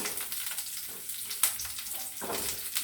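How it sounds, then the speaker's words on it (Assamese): Curry leaves frying with onions in hot oil for an Assamese chicken curry, a soft, close crackling sizzle with a few sharper pops and brief bursts of spitting. "এই পিঁয়াজৰ লগত এইটো ভাজি দিওঁ মই"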